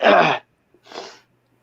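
A sharp, loud sneeze bursts out close up, followed by a softer, shorter second sound after a brief pause.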